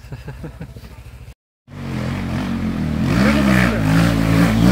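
Enduro motorcycles idle with a pulsing low throb, then after a brief silence rev up loud and close, the pitch rising and falling with each twist of the throttle.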